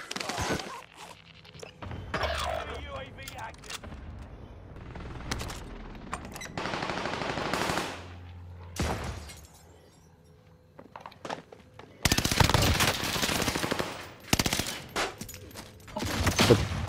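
Bursts of automatic gunfire and rapid shots crack through a Warzone Pacific gunfight, some loud and close, others more distant, broken by short lulls with footsteps and faint voices.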